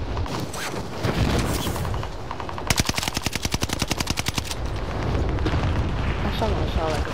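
Automatic gunfire from a multiplayer shooter game plays in a fast, evenly spaced burst mid-clip, with other shots and game noise before and after, under a continuous talking voice.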